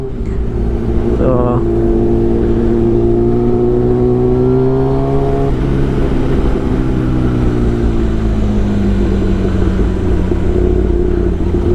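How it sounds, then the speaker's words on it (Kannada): Car engine accelerating on a road, a continuous loud drone whose pitch climbs and shifts steadily for several seconds, close and sustained. "ಏನು ಆಕ್ಸಿಲೇಟ್ರ್ ಕೊಟ್ಟಾಗೆ ಗಾಡಿ ಜುರ್ರತ ಹಂಗೆ ಜುಪ್ ಹೋಗ್ಬಿಡುತ್ತೆ"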